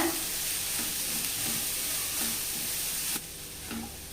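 Grated carrot and shredded cabbage sauté in a pan with a steady, close hiss of sizzling. Repeated stirring strokes run through it, and the level drops slightly toward the end.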